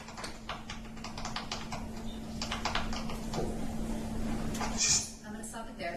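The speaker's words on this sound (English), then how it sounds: "It sounds like we're hearing like a clicking sound as though you're texting." Rapid light clicking of texting on a phone taps along in quick irregular bursts for several seconds, faint beneath a steady low hum, with a brief sharper click near the end.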